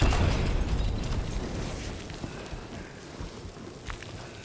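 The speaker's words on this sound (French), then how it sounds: "Non, c'était une frag bombe." A frag bomb exploding in the video game Hunt Showdown, a loud booming blast at the start that decays into a rumbling, crackling tail over several seconds, with a few scattered pops after.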